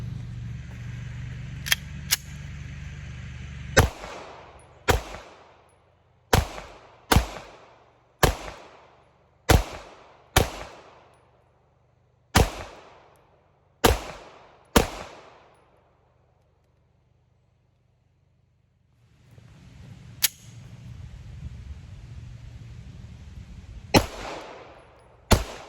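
Single pistol shots from a Sig Sauer P320 XFIVE Legion, about a dozen sharp reports at an irregular, unhurried pace with ringing decay, followed by a quiet gap and a few more shots.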